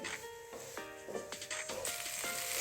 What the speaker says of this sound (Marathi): कंडेन्स्ड मिल्क घातल्यावर साखर घालायची गरज नाही आता व्यवस्थित छान सगळं आता जून होईपर्यंत परतून घ्यायचं आहे